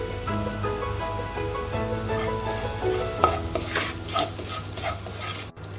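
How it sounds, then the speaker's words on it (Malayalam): Brinjal with crushed chilli sautéing in a pan, a steady close sizzle under which a utensil scrapes and stirs, with a cluster of louder crackling, spattering bursts in the latter half and no talking. "നമുക്കിനി ഇതിന്റെ ഒരു പച്ചമണം മാറുന്നത് വരെ നന്നായിട്ടങ്ങ് വഴറ്റി കൊടുക്കാം."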